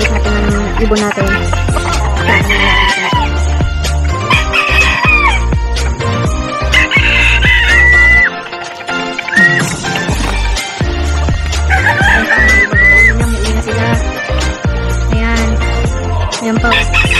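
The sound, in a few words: rooster crowing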